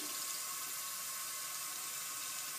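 Tap water runs steadily into a sink while hands are rinsed from wrist to fingertip, a constant close hiss with no breaks and no talking.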